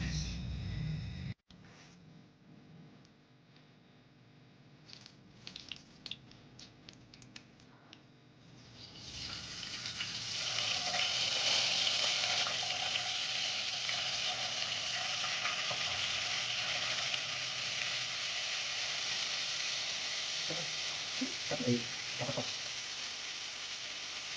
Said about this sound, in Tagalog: atong lutoon karon kay pritong isda guys